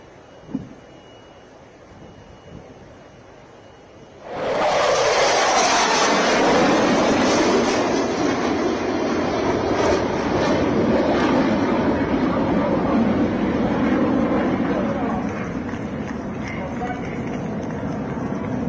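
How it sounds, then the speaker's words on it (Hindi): A retiring Indian Air Force MiG-21 supersonic jet in a final ceremonial flypast over a stage, a loud sudden roar that swells in and stays powerful for many seconds before easing slightly. "गर्जना करते हुए मंच के ऊपर से अंतिम बार देवियों एवं सज्जनों MiG-21 गुजरता हुआ"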